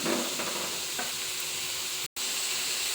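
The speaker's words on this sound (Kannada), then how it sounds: "ಅಲ್ಲಿವರೆಗೂ ಎಣ್ಣೆಯಲ್ಲಿ ಸ್ವಲ್ಪ ಫ್ರೈ ಮಾಡ್ಕೊಳ್ಳೋಣ" Chopped radish fries in oil in a pan for a chutney, giving a loud, continuous close-up sizzle and hiss with faint stirring scrapes, briefly cut to silence midway.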